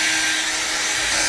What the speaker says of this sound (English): we're going to help it here a little bit with a hairdryer to get some of these wrinkles out